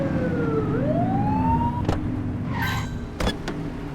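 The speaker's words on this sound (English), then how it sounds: "Get behind them and flip the siren and make them pull over." Police car siren in the video game The Precinct, a rising electronic wail sweeping upward over a steady car engine drone, with a few sharp clicks and short bursts partway through.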